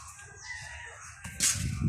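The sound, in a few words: chickens, rooster crowing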